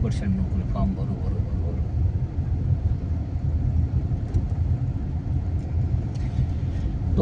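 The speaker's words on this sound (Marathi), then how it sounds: "आज भी गाड़ी जो है पूरा गियर में ही हम चलाने की कोशिश करेंगे पूरा" A car travels in gear along highway 53 with a continuous low engine and road rumble and wind noise throughout, steady and loud from inside the cabin.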